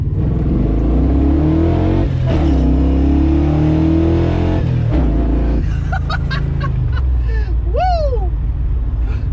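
A muscle truck launches hard from first gear. The engine roars loud and close, its pitch climbing and then dropping as it changes gear. Excited shouts and whoops break in over the engine near the end.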